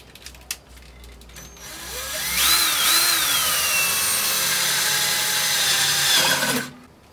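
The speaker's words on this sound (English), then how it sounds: "I'm just going to use this piece of 2x4 so I don't drill through the top of my toolbox." A power drill bores through a piece of 2x4 wood laid on a toolbox. The motor whines up loud and steady, holds for several seconds close by, then cuts off abruptly.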